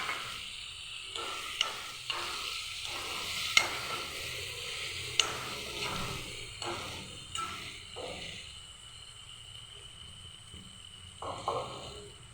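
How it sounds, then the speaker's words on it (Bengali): Spices sauté with chopped tomato and green chilli in a pan, a soft hiss and sizzle under occasional stirring scrapes and clinks, fairly quiet throughout. "ভালো করে মশলাটাকে কষিয়ে নেব।"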